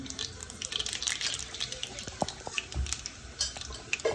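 Mustard seeds and urad dal splutter in hot oil for a fish curry, giving a close, steady crackle scattered with sharp pops throughout.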